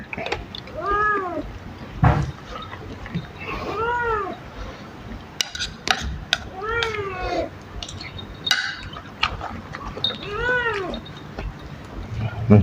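A cat meows repeatedly, about four drawn-out cries spaced a few seconds apart, up close in a home with scattered knocks and bumps and occasional talk.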